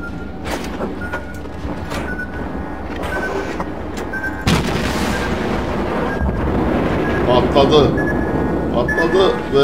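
In the naval combat game World of Warships, ship guns fire bombs at an allied vessel, and a sharp blast breaks out midway over a rumbling, mechanical battle din while a player talks throughout.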